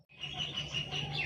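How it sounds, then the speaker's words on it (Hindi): Koel birdsong in a rural eco village setting: a steady, clear bird call with repeated chirping notes, moderately near and continuous throughout, with no talking over it. "आपको ये कोयल की आवाज़ सुनाई दे रही है,"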